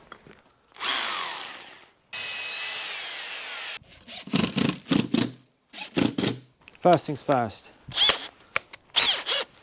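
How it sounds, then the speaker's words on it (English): A power drill whines in two long sustained bursts, boring a 25mm hole, then a voice talks in short phrases mixed with clattering and scraping sounds. "drill your 25mm hole in the back of the charger"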